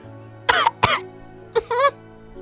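A few harsh coughs in quick bursts, a pair close together then another pair after a short gap, over a low steady hum.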